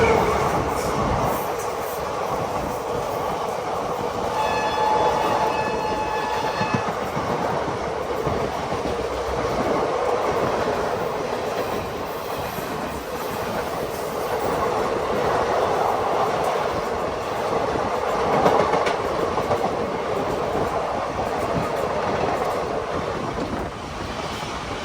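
The Mussoorie Express rumbles along on its run from Dehradun to Delhi, a continuous rolling roar of wheels on track with steady clatter. A brief high whine rises partway through, and the noise swells slightly later.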